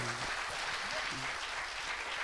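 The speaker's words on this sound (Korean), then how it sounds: "박수 한번 부탁드리겠습니다." Loud, dense audience applause fills the room without a break, with cheering voices mixed in under the clapping.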